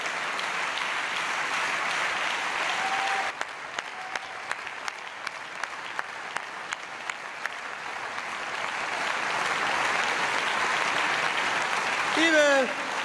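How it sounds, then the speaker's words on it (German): Sustained applause from a party conference audience honoring a departing party leader, steady dense clapping for the whole stretch with a brief swell near the end and a few sharp isolated claps standing out midway. "das ist dein Applaus."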